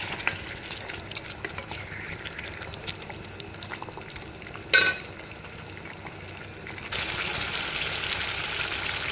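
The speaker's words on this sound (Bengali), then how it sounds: "অনেকক্ষণ ধরেই আমি কষাচ্ছি" Meat cooks down in a spice masala with a continuous low sizzle, one brief clatter midway, and the frying growing louder and brighter near the end.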